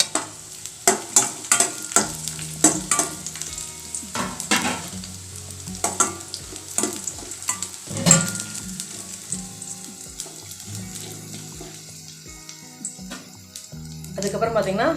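Dry red chilies and tamarind fry in a pan, with sizzling and repeated stirring clinks and scrapes close by, while a voice talks over much of it.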